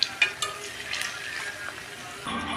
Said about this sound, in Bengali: এখানে দেখো পকোড়াগুলো আমার লাল করে ভাজা হয়ে গেছে, এবার আমি এইগুলোকে তুলে নেব।